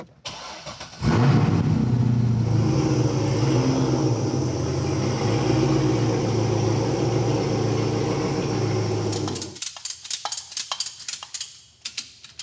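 Bone-stock Chevrolet LS7 V8 car on a Dynojet chassis dyno, starting up and running at a loud steady idle for several seconds before shutting off, followed by sharp mechanical clicks and ticks.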